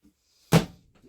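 Drawer in an RV sliding open, a single short soft thump with a brief scrape, close by, followed by faint quiet rustling.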